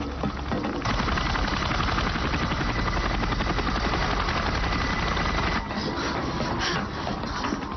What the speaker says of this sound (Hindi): ये हेलीकॉप्टर्स की आवाज लगती है।